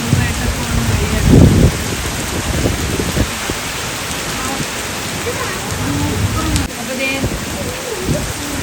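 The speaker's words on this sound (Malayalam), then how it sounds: "നല്ല അടിപൊളി മഴയാണ്" Heavy rain pours down at night in a Kerala yard where wind is knocking mangoes from the tree, a steady dense hiss of rainfall close by with a brief louder burst near the start.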